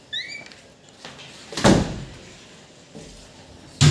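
A household door swings shut with a solid thud about midway, followed by fainter knocks and a last bump at the end, heard fairly close in a quiet home with no one talking.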